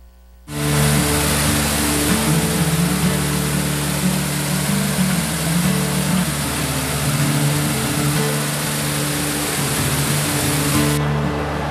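Taughannock Falls, a waterfall in a park: a loud, dense, unbroken roar of falling water kicks in suddenly after a brief quiet start and holds steady, close to the listener, with no voices.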